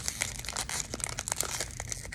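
Crinkling plastic blind bag packaging being worked open by hand, a rapid series of close, crisp crackles and rustles that come in irregular bursts over a couple of seconds.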